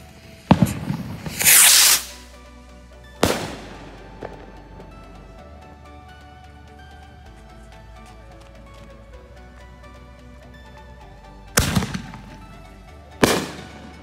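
Fourth of July fireworks go off in loud, sharp bursts, one with a crackling hiss, separated by long stretches of quiet background.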